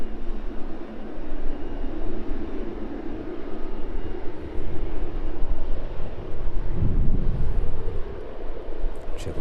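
A large jet bound for Tenerife rumbles at a steady, moderate distance as it taxis onto the runway centre line at East Midlands Airport, its engine drone rising briefly near the end.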